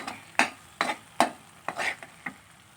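Masala being fried and stirred in a pan for egg sambar, with about seven rhythmic scraping strokes of a spoon against the pan over a faint, low sizzle, close by and with no talking.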